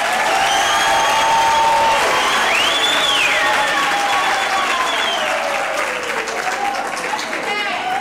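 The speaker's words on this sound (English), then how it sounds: "this choir deserves yet another big round of applause" A big crowd at a university graduation ceremony claps continuously for a choir, loud and even, with a few whistles and cheers rising above the dense applause.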